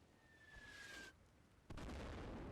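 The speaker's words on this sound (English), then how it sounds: "Mortar fire coming in." Incoming mortar rounds in the Combat Mission: Battle for Normandy video game, a whistling descent followed by a sharp blast, then a louder, heavier explosion that rumbles on after it.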